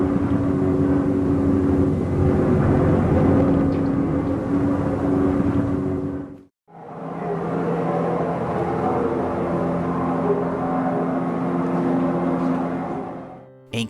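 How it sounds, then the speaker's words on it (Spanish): Airplane drone recorded at Belchite, the abandoned Spanish village bombed during the Civil War: a loud, steady engine hum with tonal bands runs throughout, broken by one brief gap midway, with no voices. "sonidos de aviones."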